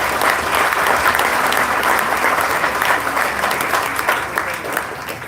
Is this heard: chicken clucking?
no